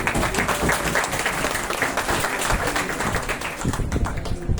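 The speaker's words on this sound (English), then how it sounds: "Please round of applause" Audience applause at the close of a workshop on intellectual property rights, a dense, even burst of clapping from a seated crowd sustained throughout with no break.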